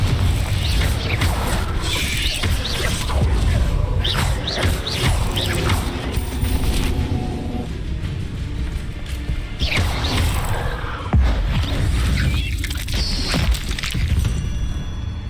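Spell blasts and impacts from Hogwarts Legacy combat, dense crashing booms, shattering and mechanical clatter layered over a loud continuous game soundscape.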